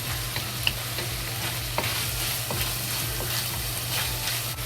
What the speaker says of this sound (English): Just let it fry until the ginger and the scallion release good smell.